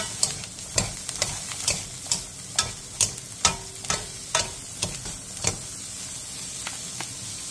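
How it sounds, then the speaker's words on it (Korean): Julienned burdock root stir-fries in perilla oil in a pan over medium heat, a steady sizzle broken by about fifteen crisp, rhythmic spatula strokes scraping the pan. "팬에 들기름 1스푼을 두른 뒤 우엉을 넣고 2분 정도 중불에서 볶아주세요"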